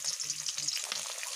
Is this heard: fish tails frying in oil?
yes